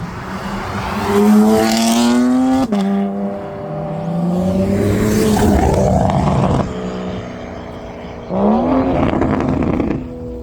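A loud Audi RS4 roars past with engine revs rising and falling at a car show, followed by more revving vehicles nearby, no voices.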